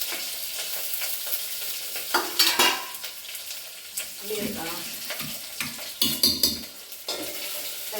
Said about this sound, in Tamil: லைட்டாக வதக்கி விட்டுருவோம்